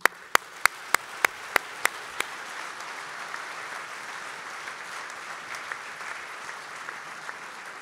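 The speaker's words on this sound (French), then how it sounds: "je vous demande de l'applaudir" At an agricultural congress, an audience breaks into sustained, even applause. A few loud, separate claps stand out at the start before the clapping settles into a steady wash.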